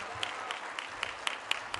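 Applause from the audience at the Sarajevo Business Forum in a hotel hall, with sparse scattered claps standing out over a steady wash of background noise, fairly faint and brief.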